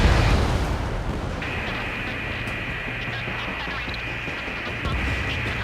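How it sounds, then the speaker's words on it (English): In the Ace Combat 7 flight game, a missile launches and a heavy explosion booms under a constant loud jet-engine roar, with a high whine running through the rumble. "Mage 2 missile launched."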